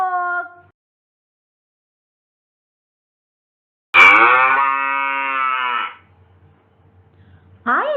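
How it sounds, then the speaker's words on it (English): A cow moos in two loud, close calls, one long low moo and a short one at the end, separated by silence, following a brief spoken line. "I give you milk. I am a cow."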